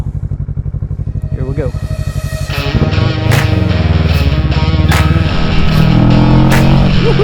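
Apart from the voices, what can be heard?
Kawasaki 650 motorcycle with Rapid Bike ECU on first ride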